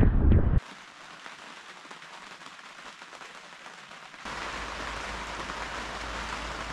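Rain patters steadily on a tent in a dense, hissing rush that gets noticeably heavier partway through, after a brief burst of other noise at the start.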